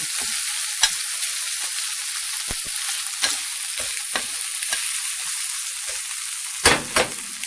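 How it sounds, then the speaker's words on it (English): Food sizzles steadily in a pan, a bright continuous crackle with occasional sharper pops and stirring clicks, no voices. "So here I go, frying this up."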